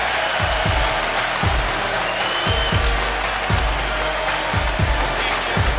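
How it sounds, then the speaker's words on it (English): A college basketball crowd roars and applauds during a UCLA versus Cincinnati game at the renovated Fifth Third Arena, loud sustained cheering with repeated thumping beats underneath. "Crowd to its feet here at the renovated Fifth Third Arena."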